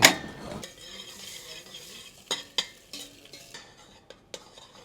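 Meat frying for kavurma in a pan with a soft sizzle underneath, while a utensil stirs and scrapes against the metal in several sharp, irregular clinks.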